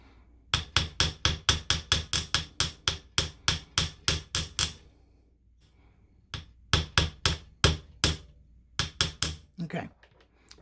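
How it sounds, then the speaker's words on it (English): Rapid metallic taps of a chasing hammer on wire in a steady run of about twenty strikes, a pause, then two more short bursts of tapping, close and clear. "So we'll start with the chasing hammer."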